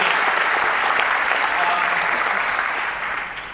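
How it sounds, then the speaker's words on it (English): Loud, continuous applause from a large convention crowd at a San Diego Comic-Con 2017 panel for the cast of Legends of Tomorrow, a dense steady roar of clapping that eases slightly toward the end. "let's give them a round of applause"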